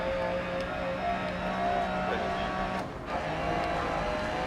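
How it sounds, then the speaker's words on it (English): A rear-wheel-drive Lancia rally car engine in DiRT Rally, a steady droning hum under light throttle that builds slowly, with a brief dip near the end, under faint voice. "So, very light on the gas, accelerating slowly here."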